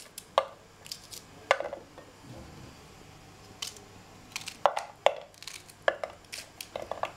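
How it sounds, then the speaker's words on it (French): Knife chopping okra into thin slices for mafé, a series of close, sharp taps on a cutting board in an irregular rhythm. "Je prends mes gombos et je les coupe"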